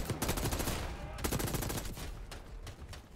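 Gunfire from a gun in the video game Call of Duty Black Ops 6 comes as rapid automatic bursts, loud and close, broken by a short pause before more quick shots and fainter follow-up fire.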